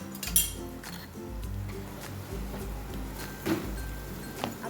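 A spoon clinks against a pan while red chili powder goes into a simmering paneer masala gravy, giving two sharp metallic taps a few seconds apart over a steady low kitchen hum.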